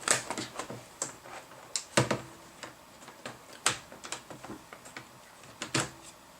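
Plastic clicks and snaps as a laptop keyboard is folded back and pressed into place during a hard disk to SSD upgrade, a quick run of sharp taps and a few louder snaps, close and fairly quiet.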